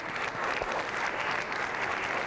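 A television studio audience applauds doctors in a 1998 Turkish variety show, a brief, even burst of dense clapping heard alone from start to finish.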